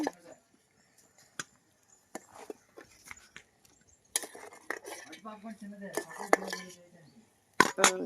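Cutlery and dishes clink and scrape in scattered bursts as boiled tomatoes and green chilies are moved into a bowl, with a low stirring scrape in the middle and brief quiet gaps.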